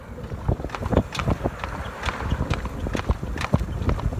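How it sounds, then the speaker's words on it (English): Horse hooves clip-clop at an irregular trotting pace, drawing a cart in far eastern Georgia, heard close and clear over faint wind. "Even hitchhiked in the back of a horse-drawn cart at one point in far eastern Georgia."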